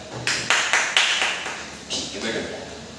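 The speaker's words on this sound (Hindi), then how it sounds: "तालियां बजाओ इसके लिए एक बार।" A classroom of students clapping for a classmate, with a handful of sharp claps in quick succession, then a softer scattered patter as the clapping fades, heard close and moderately loud.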